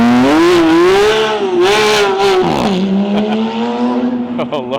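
Sports car at a Cars & Coffee meet taking off, its engine revving up through rising and falling pitch with a brief shift, loud and close, and a voice talking over part of it.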